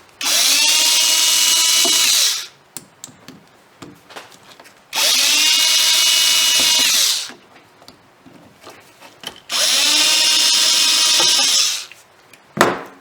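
A power tool spins out the carburetor bowl screws on a Polaris in three loud, steady whirring bursts of about two and a half seconds each, separated by quieter gaps with faint clinks.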